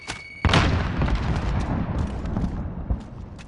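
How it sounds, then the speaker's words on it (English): A grenade explodes in a first-person shooter game, a sudden loud boom with a long, heavy rumbling decay that stays thick and low for several seconds, close and dominant, with faint game sounds beneath. "Grenade out."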